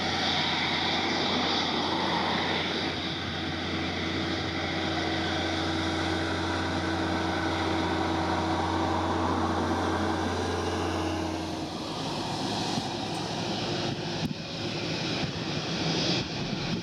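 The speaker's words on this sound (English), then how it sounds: "Its powerful yet fuel-efficient Rolls-Royce Trent 7000 engines propel it effortlessly down the runway" An Airbus A330neo with Rolls-Royce Trent 7000 engines takes off at Lisbon Airport, a loud continuous jet roar with a steady low drone that shifts and thins partway through as the aircraft climbs away.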